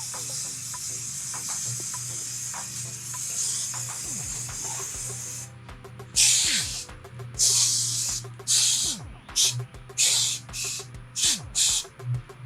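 Spray adhesive hisses onto a truck headliner in bursts: a steady hiss for about five seconds, then a run of short, loud spray pulses of varying length, close up.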